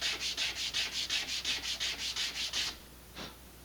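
A piece of sandpaper rubs back and forth over laser-cut wood on an Estes SpaceShipOne model rocket kit, about a dozen quick, even scratchy strokes up close, followed by a pause and one last light stroke.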